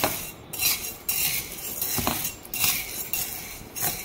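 Chana dal is dry-roasted in a pan and stirred, the spoon scraping and rattling the grains against the metal in quick, uneven strokes, close and clear with no talking.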